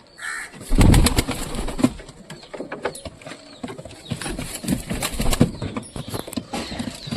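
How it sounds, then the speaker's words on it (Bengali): Pigeons feeding on scattered paddy grain, with soft cooing, wing flaps and light pecking and shuffling, starting with a brief louder burst, then steady low activity close by. "ধান কবুতরদের খেতে দিলাম সব কবুতর ধীরে ধীরে হয়তো নামবে"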